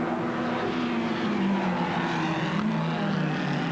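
Formula Ford race cars at the 1990 Formula Ford Festival at Brands Hatch, climbing toward Druids in drizzle, engines droning steadily with shifting pitch as they run close together, no talk over the continuous roar.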